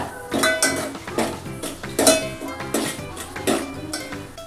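Tomato masala with turmeric, salt and chilli being mixed in a pan, heard as a quick series of close metallic clinks and scrapes of a spoon against the pan, with no voices.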